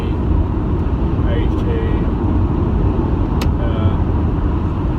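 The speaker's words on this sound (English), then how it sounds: "If I put it into fifth, put my foot down, not a hell of a lot there." A 2006 Audi A6 Avant 2.7 TDI accelerating in fifth gear, heard as a loud, steady engine drone and road roar filling the cabin for the whole stretch.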